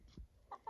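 Chickens in a backyard pen cluck in a few short, quiet bursts near the microphone, with brief pauses between the calls.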